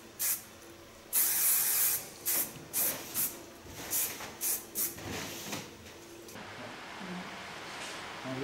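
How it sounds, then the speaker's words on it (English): Hairspray spritzed onto a model's hair from roughly 30 centimeters away, heard as one long hiss followed by a quick series of short, close bursts and a softer trailing spray. "be aware that you use a hairspray about 30 centimeters from the hair"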